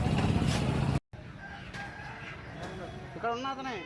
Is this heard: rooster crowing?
yes